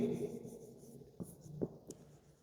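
Chalk or marker strokes on a board during a maths lesson, a few soft scratchy taps and short strokes, quiet and close with no talking.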